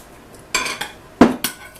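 Serving utensils clink and scrape against dishes while honey garlic ribs are dished up, with four sharp, close metallic knocks spread over a couple of seconds.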